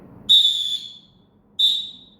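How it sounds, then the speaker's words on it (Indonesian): Two sharp, shrill referee whistle blasts at a karate match, the first longer and the second shorter after a brief pause, loud and clear against near silence. "Peluit dibunyikan"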